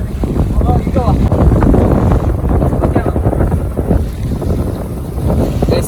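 A boat moving across open water near Dubai, with a steady, loud rumbling wash and gusty wind buffeting the microphone throughout.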